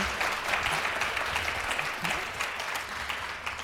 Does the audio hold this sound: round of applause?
yes